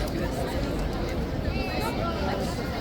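Dense crowd hubbub near Buckingham Palace as tourists arrive after the changing of the guard, a steady murmur of many overlapping voices and chatter at even loudness throughout.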